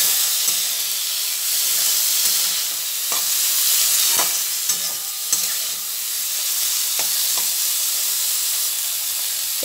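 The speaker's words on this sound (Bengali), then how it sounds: "এবার একটা টমেটো কুচি দিয়ে দিচ্ছি। টমেটো কুচিটাও একটু নেড়ে নেব।" Chopped tomato sizzles as it is stirred in a hot frying pan, giving a constant bright hiss of frying with scattered clicks and scrapes from the stirring utensil.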